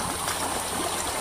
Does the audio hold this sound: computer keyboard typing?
no